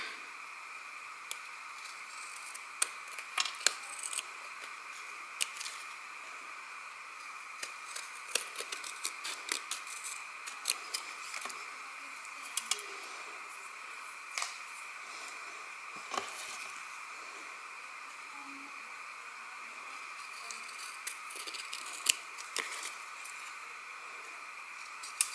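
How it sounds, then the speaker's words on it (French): Scissors trim excess paper from the edges of a handmade card made from paper scraps. Crisp, close snips come irregularly over a quiet background, sometimes several in quick succession and sometimes spaced out. "On va découper l'excédent."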